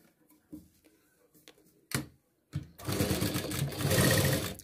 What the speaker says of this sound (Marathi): आता आपल्याला एक टीप लावायची आहे. अगदी जवळून टीप घ्यायची आहे.